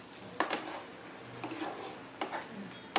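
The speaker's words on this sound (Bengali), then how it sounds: "ঢাকনাটা আমি সরিয়ে নেব।" A metal lid lifted off a cooking pot of methi matar malai in a home kitchen gives a few sharp clinks and light scrapes, spaced over a few seconds, close and fairly quiet.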